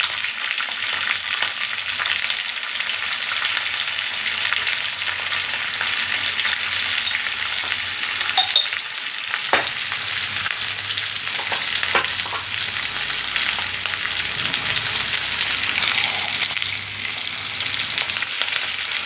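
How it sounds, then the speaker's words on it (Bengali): Capsicum sizzles steadily in hot oil in a pan, a continuous close frying crackle with occasional stirring clicks and scrapes, no voices over it. "ক্যাপসিকামটাকে এবারে একটু ভাজা ভাজা করতে হবে, না ভেজে রান্না করা যাবে না।"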